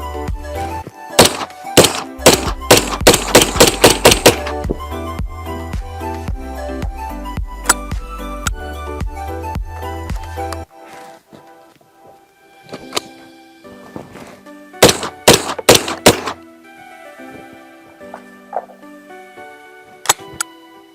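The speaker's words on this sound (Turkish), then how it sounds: "son olarak deneyeceğimiz tüfek Aksa T14 36 kalibre" An Aksa T14 .410 semi-automatic shotgun is fired outdoors at a range. Sharp, loud shots come in rapid strings, separated by quieter pauses with scattered knocks.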